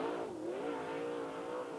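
Late model race cars roar around a dirt speedway during a heat race, a loud, sustained engine wail whose pitch dips and rises as a car swings through a turn.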